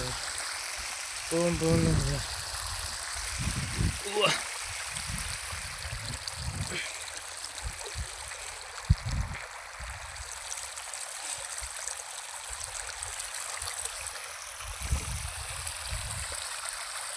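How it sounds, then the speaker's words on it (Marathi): Steady broadband rush of water flowing from an irrigation pump pipe on a farm, continuous throughout, with a few brief voices and knocks breaking in near the start. "हे बघा आलं आम्हाला पाणी."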